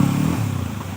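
A motorbike rides through knee-deep floodwater during the 2021 Bhagwanpur flood; its engine gives a steady, close, low drone for about a second, with no clear splashing.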